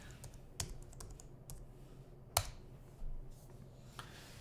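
Computer keyboard being typed on while setting up a Raspberry Pi cluster, a few quiet, sparse key taps and clicks with a couple of sharper keystrokes, close and alone in a quiet room.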